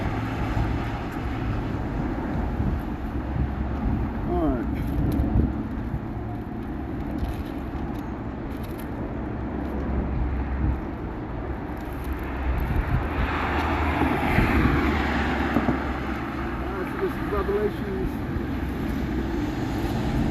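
Strong wind buffets outdoors at a holding-pattern practice session, a steady low roar and rumble lasting throughout, with a gustier swell midway; no one speaks.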